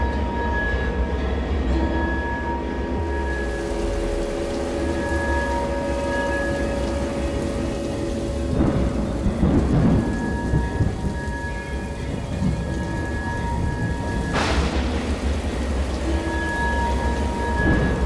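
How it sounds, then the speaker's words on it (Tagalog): Steady rain pours down with rolling thunder rumbling through it, two louder thunder crashes standing out partway through, no voices. "Kung kailan umuulan na."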